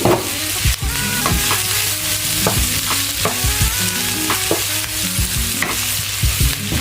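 Onions and chopped cluster beans sauté in a pan, sizzling loudly up close while a spatula scrapes and stirs in regular, repeated strokes.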